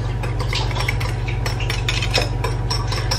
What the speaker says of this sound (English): So now we're gonna mix all the dry ingredients up.